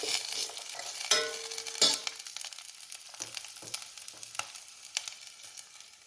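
Garlic cloves frying in a pan for almond broccoli soup: a quiet, steady sizzle broken by sharp clicks and scrapes as the pan is stirred, close by with no talking.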